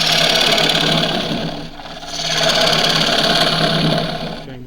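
A wood lathe spinning a tray while a half-inch spindle gouge hollows it, a steady close whirring hum with a brief dip in the middle before the cutting resumes.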